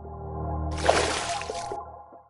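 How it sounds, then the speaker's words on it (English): A swimming stroke churns through water in one sustained splash and slosh that swells, then trails off into a few drips, near and moderately loud. "Next is this swim sound for the water interaction sound."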